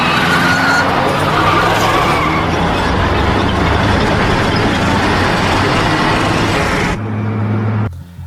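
A powerful truck drives past, a loud, dense engine and road roar sustained for about seven seconds before cutting abruptly to a quieter low hum, with no voices.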